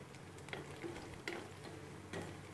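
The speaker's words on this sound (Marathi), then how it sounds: "अर्धी वाटी लसूण घेतला आहे आपण, इकडे छान परतून घेऊया" Half a cup of garlic sautés gently in a pan over low heat, a faint, steady soft sizzle with a few quiet ticks and stirring clicks close by.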